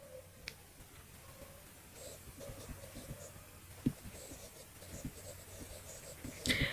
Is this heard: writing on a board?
yes